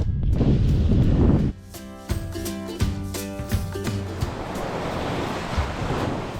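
Ocean waves wash onto a Bahamas beach at low tide, a steady broad rush of surf with wind buffeting the microphone, loud and close, rising and falling without any talking.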